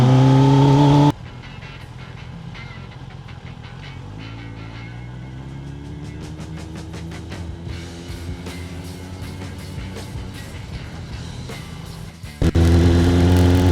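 A motorcycle being ridden after a warm-up, its engine droning steadily as it cruises with rising and falling revs and wind rush, framed by brief louder bursts of other sound at the start and end.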